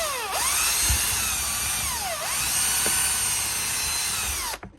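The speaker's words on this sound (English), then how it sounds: "You want to use your 3 and 30-second drill bit" A power drill whines loudly and steadily, boring into model railway scenery for utility poles, its pitch dipping and rising in two long passes before cutting off abruptly.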